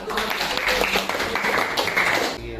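Children clapping their hands in a classroom, a dense burst of applause that fills the whole stretch at steady loudness, with a few voices mixed in.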